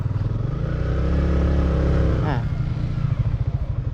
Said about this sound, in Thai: กำเบรกแล้วก็บิดคันเร่ง